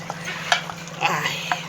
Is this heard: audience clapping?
no